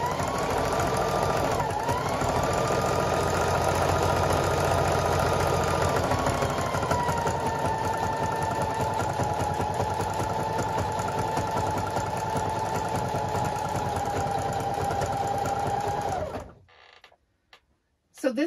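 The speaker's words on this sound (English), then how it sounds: "I'm sewing on two different machines at the same time" Two sewing machines running at once in a home sewing studio, making a steady, continuous mechanical whir and hum with a faint tonal whine, which stops abruptly near the end.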